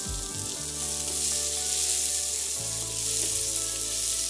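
About half a cup of chopped onion drops into hot oil with black cumin and fries with a loud, close, continuous sizzle that stays steady throughout, with no voices.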